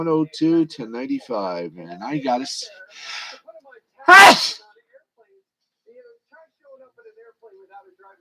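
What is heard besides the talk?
sneeze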